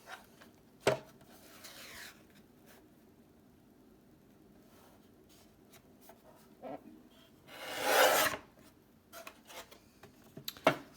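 Scissors cutting paper for a junk journal pocket, with a few short snips early on and one longer, louder cutting stroke near the end, set in a quiet room.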